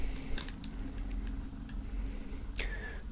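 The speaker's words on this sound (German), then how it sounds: "aus der Folie befreien" Plastic foil wrap is peeled off a music album, giving a few sharp crinkles and snips close by over a quiet background, with one louder rip near the end.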